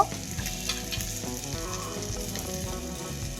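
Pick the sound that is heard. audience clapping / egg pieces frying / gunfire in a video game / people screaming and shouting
egg pieces frying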